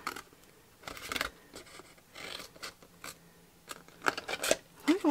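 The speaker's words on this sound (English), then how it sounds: "Issues with my scissors today?" Scissors snip through paper while a sweet tent gift box is being made, a run of close, crisp cuts and scratchy rubs in irregular bursts with a few quiet remarks between them.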